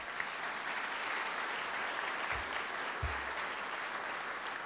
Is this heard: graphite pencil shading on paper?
no